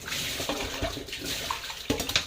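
Water is poured and splashes out after cleaning an exhaust fan, close and fairly quiet, in short uneven gushes.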